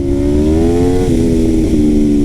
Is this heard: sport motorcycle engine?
yes